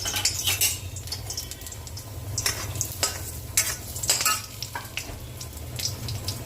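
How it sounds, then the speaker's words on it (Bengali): Lentil dumplings (bori) fry in heating oil in a karai with a constant near sizzle, broken by scraping and metallic clinks of a spatula as they are stirred. "কড়ায় তেল দিয়ে দিয়েছি, তেলটা গরম হচ্ছে, তার মধ্যে বড়িটা দিয়ে দিলাম"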